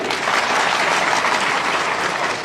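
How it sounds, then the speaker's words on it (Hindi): Loud, dense applause from a large audience, a continuous wash of clapping that stays level throughout the short stretch. "ताली बजाइए माननीय जज साहब के लिए"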